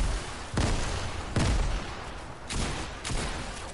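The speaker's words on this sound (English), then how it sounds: "Grenades." Grenades explode in Fortnite, a series of heavy booming blasts about a second apart, each one rumbling loud amid continuous game noise, with no voices.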